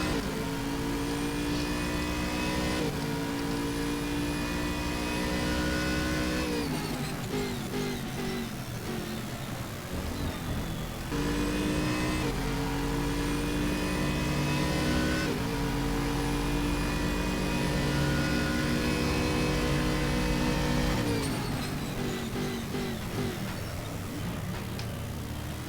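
A GT3 race car engine roars in Stock Car Extreme at the Red Bull Ring. It is loud and continuous, rising in pitch and then dropping at each gear change every few seconds, with no one talking over it.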